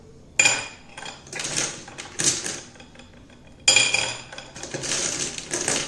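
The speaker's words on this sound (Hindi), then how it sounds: "ऐसे 2 बाउल्स ले लेंगे और बच्चे को स्पून देना है आपने, put marble in a bowl." Glass marbles spooned from one bowl into another during a children's motor skills activity, giving bright clattering clinks in two bursts with quieter scraping between, close and fairly loud with no talking.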